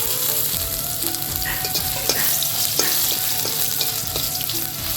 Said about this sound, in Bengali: সব কিছু ভাজা হয়ে গেছে এখন দিয়ে দিব জল